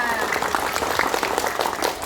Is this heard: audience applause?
yes